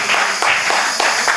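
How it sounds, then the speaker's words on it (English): A church congregation in Padova, Italy, claps in short, close, moderately loud bursts that rise and fall in a loose rhythm. "Clap for her, please."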